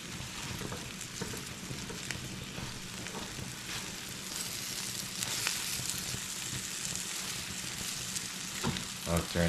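An omelette frying in a pan on the stove, a steady loud sizzle and crackle close by, with faint stirring or scraping near the end.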